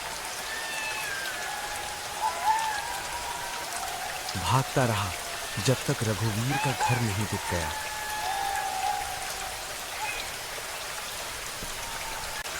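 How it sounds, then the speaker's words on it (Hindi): Steady rain patters on a tin roof under a narrating voice, a continuous wash of drops throughout. "बारिश की बूंदें टीन की छत पर डरावनी आवाज कर रही थी।"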